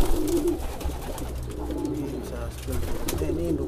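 Pigeons coo in low, repeated throaty phrases inside a breeding coop, close and soft, under a voice speaking.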